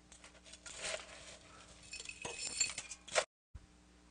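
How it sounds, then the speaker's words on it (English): Ice cubes clink and rattle into a cocktail glass for a Zombie rum drink, a busy tumbling cascade of glassy knocks that builds and ends with a sharp clink before a brief silence. "And go ahead and fill it with ice."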